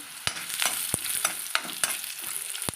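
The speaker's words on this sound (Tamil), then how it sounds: "இப்போ இந்த ஸ்டேஜில் இந்த முந்திரி பருப்பையும் போட்டு வறுத்துக்கலாம்" Cashew nuts fry in a pan, a close, crackling sizzle punctuated by sharp, regular taps and scrapes of a spatula stirring, with no talking.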